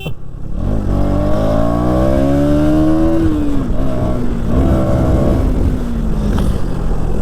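A KTM Duke 200 single-cylinder motorcycle on a ride revs up through its gears with rising, falling engine pitch and a short shift dip. The sound is close and loud, with wind noise underneath.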